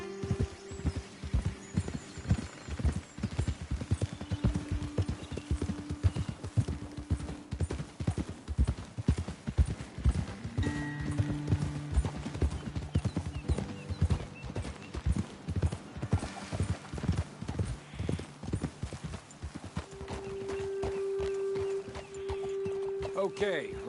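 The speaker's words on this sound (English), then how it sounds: "Best leave the horses back a bit." Horses walk along a road at a lookout spot. Their hooves clip-clop in a steady rhythm at close range, with a few snorts and neighs, while people talk over them throughout.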